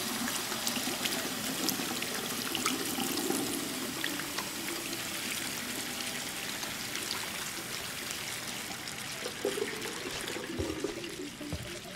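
A bathtub fills with hot water in the Life is Strange 2 video game, a steady loud rushing pour that runs continuously and close by, with a few faint bubbly trickles and no talking over it.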